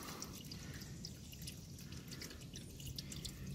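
Gasoline drains from a junked generator in a faint, steady trickle with scattered drips, quiet and continuous.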